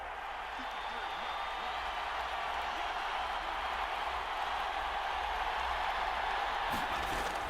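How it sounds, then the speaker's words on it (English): A steady, dense crowd roar fills a virtual football stadium in Madden 23 as a big third down approaches, sustained and even with no distinct peaks. "the crowd getting into it as we come up on a big 3rd down"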